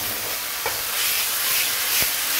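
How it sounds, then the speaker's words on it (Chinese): A marinated pork chop fries in an oiled pan over high heat, a dense, loud, steady sizzle with a couple of short knocks and no speech. "接着开大火去煎它啊，用大火去煎它"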